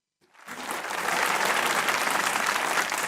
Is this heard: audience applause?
yes